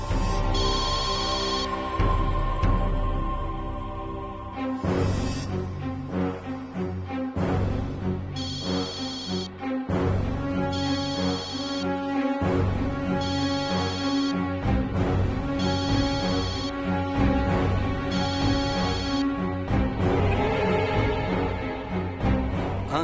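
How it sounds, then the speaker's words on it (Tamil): A telephone rings loudly and repeatedly in a regular on-off electronic ringtone pattern, with a musical background under it and no talking. "ஃபோன் வருது."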